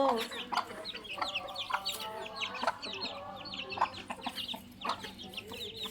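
Chickens and chicks cluck repeatedly in short, busy bursts close by as they are fed rice grains, with scattered clucks overlapping and a faint voice now and then.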